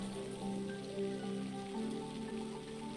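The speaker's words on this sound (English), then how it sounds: "It's so rainy. It's like Seattle in here." Steady rain falls in the video game Noble Fates, a dense continuous patter with no voices over it.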